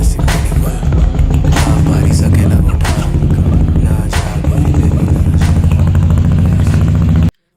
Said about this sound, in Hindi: मुझे बाइक की हर चीज पसंद थी, उसकी चाल, उसकी शान और खासकर बुलेट की आवाज